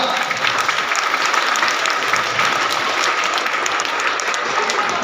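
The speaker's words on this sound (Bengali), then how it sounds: "একটু জোরে হাততালি হয়ে যা" A crowd at an Independence Day celebration claps loudly and continuously, dense applause holding steady for several seconds.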